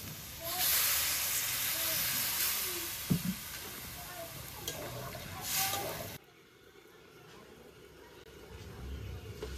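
Water goes into a hot pan of cooking vegetables and throws up a loud, close hiss of steam with a few spoon knocks. After about six seconds the hiss drops to a quieter, lingering simmer.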